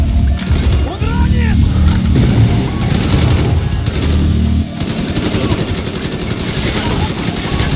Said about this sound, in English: That's a ridiculous gun. That's a ridiculous fire rate, bro.